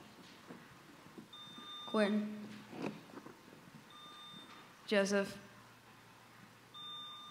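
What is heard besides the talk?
quiz bowl buzzers being tested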